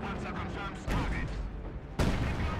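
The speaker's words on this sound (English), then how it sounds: "it does a big explosion" Brumbar assault gun firing heavy shells in the video game Company of Heroes 2, loud booming blasts with explosive impacts over a constant roar of battle noise, two sharp hits standing out.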